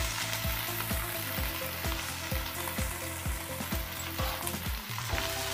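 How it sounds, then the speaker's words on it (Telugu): Cut okra pieces crackle and sizzle in hot oil in a pan, a dense close frying hiss with rhythmic low scraping or stirring strokes throughout and no voice. "ఆయిల్ వేడెక్కిన తర్వాత ముందుగా మనం కట్ చేసి పెట్టుకున్న ఈ బెండకాయ ముక్కలన్నీ వేసుకోవాలి"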